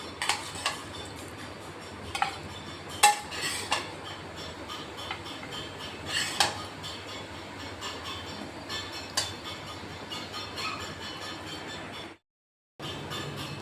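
Poha being served from a pan onto a plate, with light scraping and clinking of a spoon against metal, a few sharper taps scattered over a steady background, then a brief gap of silence near the end.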